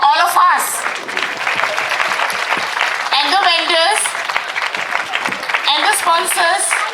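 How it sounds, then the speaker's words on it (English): An audience at an outdoor India Fest applauds loudly and steadily, with cheering and voices rising over the dense clapping throughout. "How about a loud applause for all of us?"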